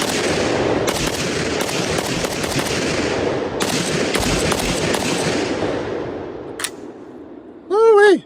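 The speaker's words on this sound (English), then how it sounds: "Let's go ahead and shoot a little bit more" A Zastava Zpap M85 rifle fires outdoors in a rapid string of loud, sharp cracks that fade off, followed by a brief excited shout from a nearby voice.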